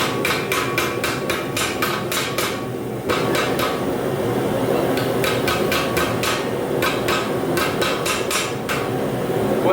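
Rapid, ringing hammer blows on hot steel while forging a Japanese-inspired chisel, struck in fast bursts with brief pauses between them, loud and close over a constant background roar, likely from the forge.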